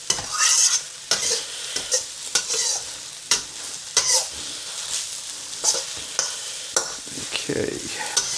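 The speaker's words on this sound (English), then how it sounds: "Just going to keep mixing that in. Just never stop stirring." Chicken chow mein fries in a pan under constant stirring, loud close scrapes and tosses coming in quick irregular bursts over a continuous sizzle.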